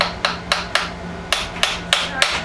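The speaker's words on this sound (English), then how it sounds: "I have a little brass hammer I use" A small brass hammer taps a workpiece down onto a fixture plate on a Bridgeport milling machine: seven sharp, bright metallic knocks at uneven intervals, close and clear over a low, steady machine hum.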